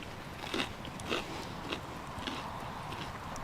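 Someone chewing melted brie cheese, a few soft, wet, close bites and mouth sounds spaced irregularly over a quiet background, with no talking.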